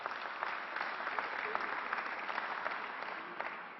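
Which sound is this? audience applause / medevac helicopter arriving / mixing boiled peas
audience applause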